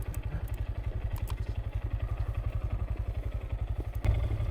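A small Honda Grom motorcycle putters along with a steady, pulsing low engine thrum close to the listener, with wind buffeting and a brief bump near the end.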